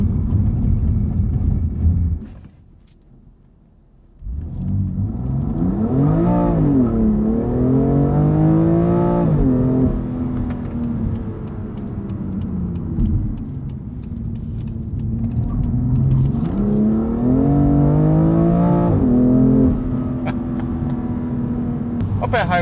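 A 2020 BMW M2 Competition on Pilot Super Sport tires during a 60-0 braking test, with a steady engine drone and tire and road roar rising and falling as the car speeds up and slows, while someone talks over it throughout.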